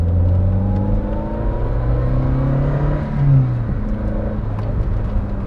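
A Lancia Delta Integrale Evo 2 engine revs loudly and close by, a deep sustained roar that rises and falls in pitch, heard alone without talk.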